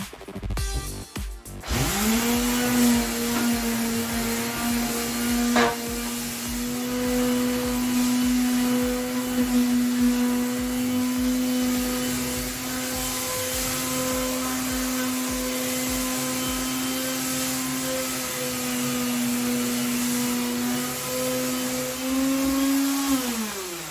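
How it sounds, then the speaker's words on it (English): A Black & Decker detail sander works a kitchen counter, spinning up after a brief clatter and then holding a steady, close, high whine throughout with no talk. "Did forget to mention, this is a detailed sander. It's got this lovely little pointed spot on it for doing this counter."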